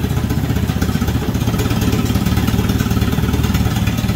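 A McCormick AW6 tractor engine idles slightly high, a loud and close steady low rumble with a fine rhythmic clatter that holds even throughout, with no voices.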